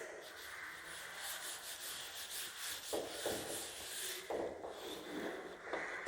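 Rubbing strokes of a duster wiping writing off a classroom board during a maths lesson, a steady scrubbing texture with several stronger back-and-forth bursts near the end.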